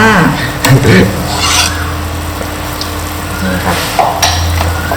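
A pot of Thai clear soup with minced pork bubbles steadily at a boil, a continuous close simmering hiss with a few clinks and knocks of the pot, under brief low talking.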